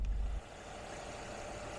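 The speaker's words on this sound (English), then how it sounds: "let's pop the hood and let's just take a look at how clean it is under that engine bay and hear it" 2013 Mercedes-Benz S550 4Matic twin turbo V8 idling with the hood up, a low, smooth, steady hum after a brief louder thump at the start, with no talking.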